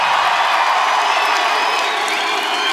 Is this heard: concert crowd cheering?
yes